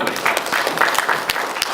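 Audience applause at a PhUSE India conference session, a dense, steady wash of many hands clapping close by for the whole short stretch.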